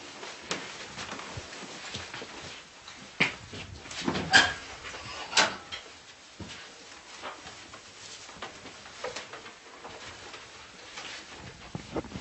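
A tied-up dog whimpers and lets out a few sharp yips and barks in short, scattered bursts over a quiet indoor background, with no talking.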